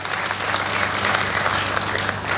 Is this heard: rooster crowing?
no